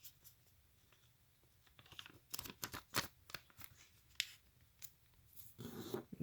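A sheet of origami paper is folded in half for a beating heart, giving soft crinkling and rustling with scattered sharp crisp creases, close and quiet.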